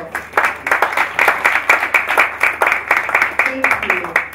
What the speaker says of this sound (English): our applause should be louder than the tech applause